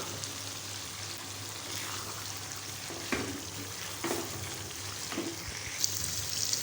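Pieces of tinda (apple gourd) stir-fry with chicken in a hot pan, making a continuous low sizzle broken by several scraping stirring strokes, close and fairly quiet, with no talking.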